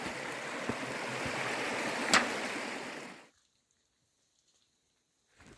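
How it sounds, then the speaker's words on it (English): The Hudson River flows at a trail crossing on the hike up Allen Mountain, heard as a steady, close rushing stream with a brief splash-like burst before it cuts off to near silence. "Okay, first river crossing of the day. It's Hudson River."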